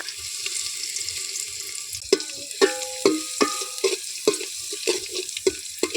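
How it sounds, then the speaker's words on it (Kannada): Mustard seeds and crushed garlic frying in a pan: a steady hiss of hot oil, then a run of sharp crackles and pops as the seeds and garlic spit, close and fairly loud. "ನಮ್ಮ ಅಕ್ಕನವರು ಸಾಸಿವೆ ಹಾಕ್ತಾವ್ರೆ ಬೆಳ್ಳುಳ್ಳಿ ಜಜ್ಜಿರ ಬೆಳ್ಳುಳ್ಳಿ ಹಾಕ್ತಾವ್ರೆ"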